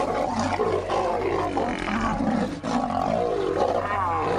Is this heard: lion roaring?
yes